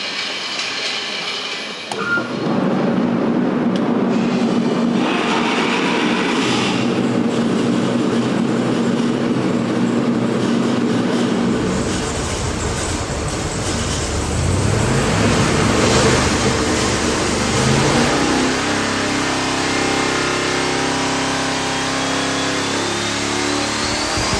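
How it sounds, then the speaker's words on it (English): A twin-turbo SML engine is revved hard on a dyno, a loud sustained roar that climbs and surges, holding at full load before changing pitch near the end. "let's go over and start running your motor, and let's start leaning on it and make some horsepower"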